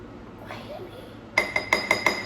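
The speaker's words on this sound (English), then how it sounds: "She hates the sound when you're stirring your coffee and it hits the side." A spoon stirring coffee strikes the side of the cup in five quick, evenly spaced clinks, close and bright, after a quieter stretch of background noise.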